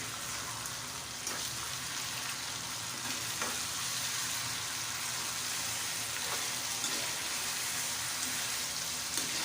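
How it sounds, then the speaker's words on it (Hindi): Tomatoes stirred into frying onions for masala bhindi, a Pakistani-style okra dish, give a steady close sizzle with scraping stir strokes and a few sharper clicks throughout, no voices over it. "टमाटर डाल देंगे और मिक्स करेंगे इसको भी।"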